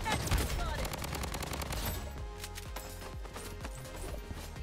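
Dense rapid gunfire from Bloodstrike, a continuous burst of automatic shots that thins into separate cracks and repeated distant reports over game ambience.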